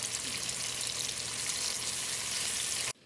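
Karaili (bitter melon) frying on low heat on a stove, a steady, even sizzle with fine crackling that carries on unbroken and then cuts off abruptly.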